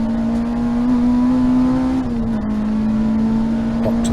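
A race car in a Tricolore race at Rockingham accelerates hard out of the Tarzan corner, its engine a loud, steady, close drone that rises slightly and then dips as it straightens onto the track.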